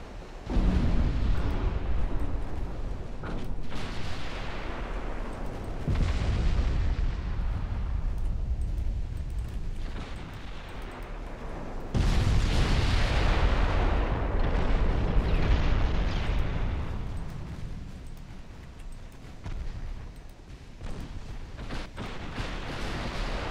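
Battleship guns fire in Ultimate Admiral Dreadnoughts naval combat, a steady barrage of deep, loud booms and rumbling blasts that swell and overlap, with a fresh burst of salvos midway.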